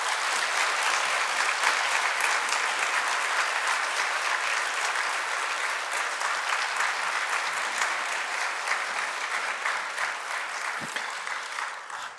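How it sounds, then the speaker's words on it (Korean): Sustained applause from a church lecture audience welcoming a journalist speaker, dense clapping that stays loud and even for about twelve seconds before easing slightly at the end. "뜨거운 박수로 환영해 주시면 감사하겠습니다."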